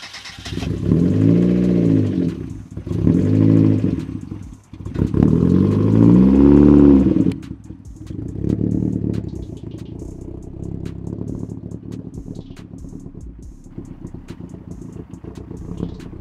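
A racecar engine running on straight Sea-Foam fuel revs loudly in three or four strong bursts, then settles into a lower, rougher running drone that fades toward the end.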